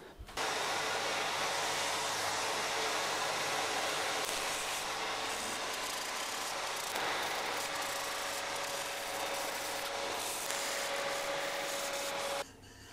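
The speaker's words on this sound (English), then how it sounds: "So that's everything sanded out in there and around the side." Sandpaper rubs continuously inside an Afromosia wooden bowl spinning on a lathe, a steady loud hiss over the lathe's hum, with dust extraction running and no talk.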